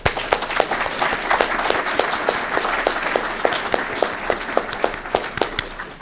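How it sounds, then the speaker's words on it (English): An audience at a military award ceremony claps continuously, with sharp individual hand claps standing out in a steady rhythm over the general applause. "please, ladies and gentlemen, from J3, round of applause, Sergeant First Class Manlio Bobadilla."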